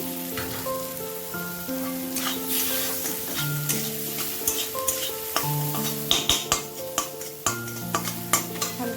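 Food sizzling as it fries in a pan while being stirred, with a steady frying hiss and repeated scraping clinks of the utensil against the pan. Sustained musical tones play underneath.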